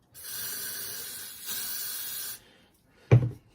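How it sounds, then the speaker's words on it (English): A spray can hisses in two steady bursts of about a second each while crafts are being made, followed by a short thump as it is set down. "I'm gonna try and make sure I like spray it away from my coffee"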